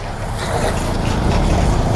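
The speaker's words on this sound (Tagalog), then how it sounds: "ugas muna tayo ng motor mga paps" Water sprays steadily onto a muddy motorcycle taxi as it is washed, a loud, close, continuous hiss and rush with no pauses or speech.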